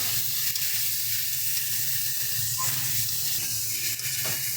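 Tomatoes frying in a pan while being stirred, a constant bright sizzle with soft scraping and small spatters, close and steady throughout with no voices.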